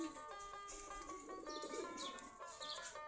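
Domestic Giribaz tumbler pigeons from a flock of about 45 pairs in an open loft, cooing softly in overlapping calls with chirps throughout, a busy backdrop of bird sounds close by.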